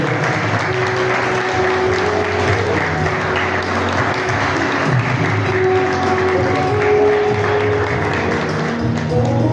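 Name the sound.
students applauding at college annual function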